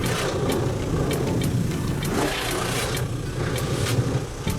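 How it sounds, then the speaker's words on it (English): An automatic car wash runs in the background, a steady broadband rush of water spray and machinery with low rumbling, continuous throughout at moderate level with no talk. "I'm getting a car wash. That's probably what you hear in the background."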